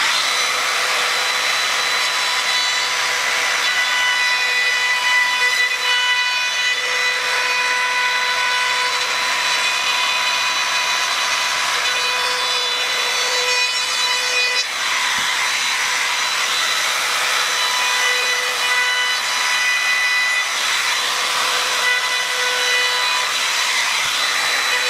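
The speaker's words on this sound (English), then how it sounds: "but I can still work on it with the router" A wood router shapes a strip of wood into a rounded profile, a steady loud high-pitched whine held for the whole stretch with only a brief dip, close up and with no talk.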